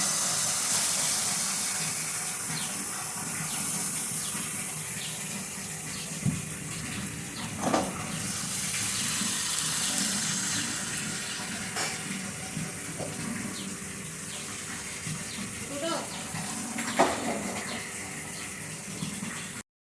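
Palm-juice batter for patishapta poured onto an oiled tawa over very low heat gives a steady, close hiss and sizzle with a few soft taps and scrapes. No one speaks.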